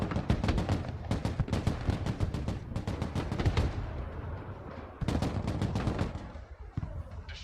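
Gunfire support in Broken Arrow, loud rapid automatic bursts in two long stretches separated by a short pause, with heavy thuds mixed in.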